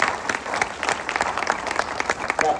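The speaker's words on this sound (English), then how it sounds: "clap for Roger, please" Audience applause during a 2023 panel of music experts, a crisp crowd of many hands clapping steadily at moderate loudness with no voices over it.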